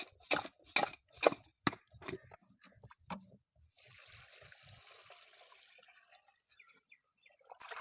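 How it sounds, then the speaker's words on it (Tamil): Rock fish rinsed by hand in a vessel of water with rock salt, several close splashes and sloshes at first, then quieter trickling and dripping water. "கல்லுப்பு சேர்த்து மீன் அலசி எடுத்துக்கலாம்"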